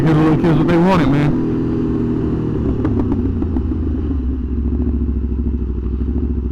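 A 2020 Aprilia RSV4 1100 Factory motorcycle rumbles with a steady, loud engine drone and some clatter, while a rider speaks over it at the start.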